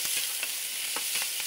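Seafood pancit canton noodles are stirred in a frying pan, a steady close sizzle broken by soft scraping strokes of the utensil at an uneven rhythm, with no voices.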